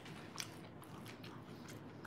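Someone bites into egg foo young and chews, with soft, close, wet crunching and smacking sounds repeating at a steady pace over a quiet room.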